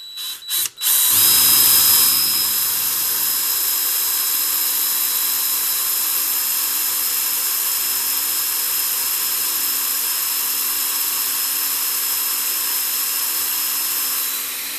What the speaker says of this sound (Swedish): Nu får jag hämta borrmaskin. Tar vi ett litet borr först. Vi kan borra rakt in i den.